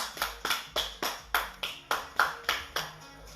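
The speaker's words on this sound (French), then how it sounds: "10 secondes d'applaudissements" Participants in an online home running class clapping in a steady rhythm, about a dozen sharp, evenly spaced claps, fairly close and clear.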